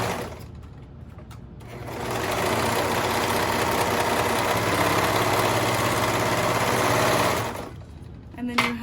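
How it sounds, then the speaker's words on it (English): A sewing machine stitches baby legging pieces together in a chain. After a quiet start the motor whirs in a steady, loud, close run for about five seconds, then stops, followed by a few handling sounds. "just keep sewing them together and not cutting them apart."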